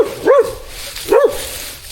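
A dog barks twice, close and loud, with a pause of about a second between the two sharp yelps.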